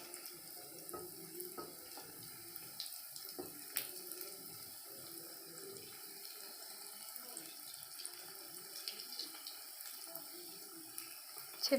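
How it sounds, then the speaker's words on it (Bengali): Vegetable chops fry in hot oil with a soft, continuous bubbling crackle, fairly quiet and steady, with scattered small pops and clicks throughout. "এবার আমি তেলে ছেড়ে দেবো সব পরপর আমি এরকম তেলের মধ্যে ছেড়ে দেবো"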